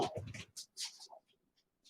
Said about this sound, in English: My doggy dog is barking.